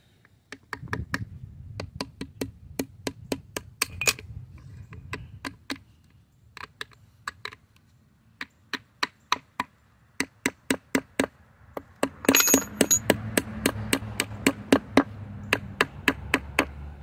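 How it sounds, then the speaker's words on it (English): A hammer taps a Dana 44 axle seal into place in a long series of sharp metallic knocks, steady at first and then quicker and louder near the end, close up with no talking. "Axle seal for a Dana 44. Let's get that in there. Tap it in."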